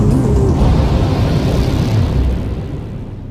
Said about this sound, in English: The upper stage of the rocket fires again.